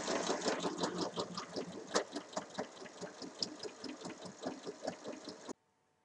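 A sewing machine stitches the side seam of a fabric pouch, giving a fast, even run of close mechanical clatter with a regular stitching rhythm that stops abruptly near the end, no voices.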